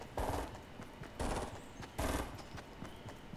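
Fortnite gunfire: three rapid bursts of automatic shots, each about half a second long, spaced evenly and sounding close, with a faint background hum between them.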